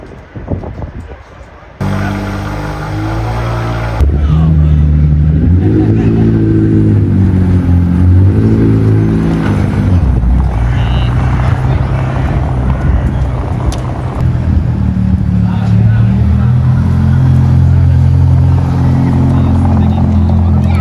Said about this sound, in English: There's some supercars being offloaded.